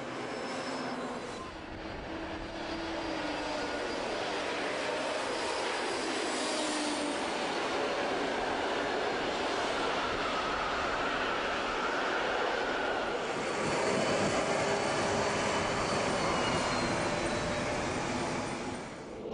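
A V180 diesel locomotive of the Reichsbahn runs along the tracks with a steady, loud broadband engine and rolling rumble that swells slightly toward the end, heard alone without talk.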